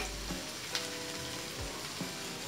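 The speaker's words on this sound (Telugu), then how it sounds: "ఆయిల్ అంతా పైకి వచ్చేంత వరకు ఫ్రై చేసుకోవాలి." Fish porutu sizzling in oil with chili powder, coriander powder and garam masala, a soft steady frying hiss with a few faint clinks and scrapes of stirring.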